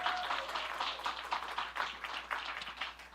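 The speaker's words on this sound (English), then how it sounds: "give yourselves a round of applause" An audience at a green-carpet summit film premiere applauding itself: moderately loud, uneven clapping from a crowd, continuous and slightly distant throughout.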